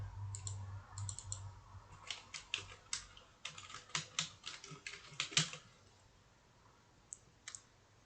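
Code is typed on a computer keyboard, a quick run of close, light key clicks that fades into a few isolated taps, with no talking.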